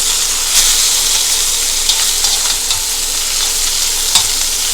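Chicken fried rice sizzles loudly in a cast iron wok, a dense continuous frying hiss with occasional stirring scrapes and light clinks of a utensil.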